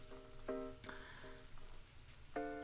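Steady rain falls and patters on a surface, a constant close wash of drops, with a few sustained musical tones sounding over it.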